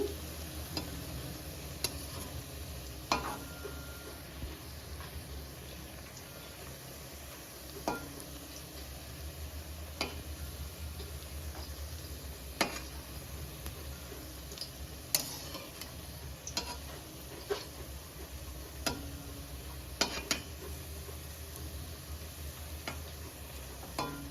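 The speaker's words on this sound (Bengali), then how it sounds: "এই যে আমাদের পকোড়া হয়ে এসছে বেগুন দিয়ে ভাজা" Eggplant pakoras frying in oil give off a soft, steady crackle throughout, with scattered sharper pops and ticks, moderately faint and with no one talking.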